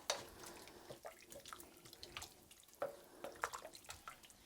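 Water pours into a pot over chopped vegetables for green chili, running with a faint, trickling splash and a few small drips. It is quiet and close, with no voice heard.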